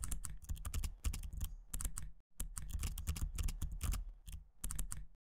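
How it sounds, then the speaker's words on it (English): Rapid, clattering keystrokes on a computer keyboard, continuous with a brief pause midway, close and crisp with no voices. "we're going to go ahead and just pretend like we're typing"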